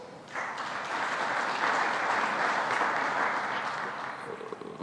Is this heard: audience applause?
yes